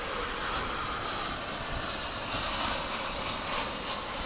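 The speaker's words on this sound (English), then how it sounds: "Here comes American Airlines Flight" An American Airlines passenger jet arriving from Amarillo at Dallas/Fort Worth airport makes a steady, distant engine roar that holds level throughout.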